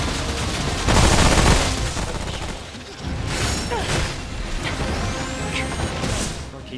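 Gunfire and bursts of combat noise from the video game Remnant: From the Ashes, a dense, loud stretch of shots with whooshing effects and occasional crashes running continuously throughout.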